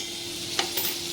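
Onion with mustard seeds, garlic and ginger sautés in a pan, giving a soft steady sizzle with a single scrape of stirring, close and fairly quiet.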